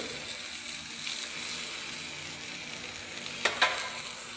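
Chicken cooking on an improvised griller gives off a soft, steady sizzle and hiss, faint and even throughout, with two sharp little crackles near the end.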